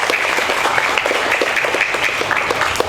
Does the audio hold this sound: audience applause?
yes